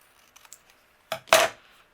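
Scissors trim a stamped greeting from cardstock with a couple of close, sharp snips and a short papery cut, preceded by faint light handling ticks.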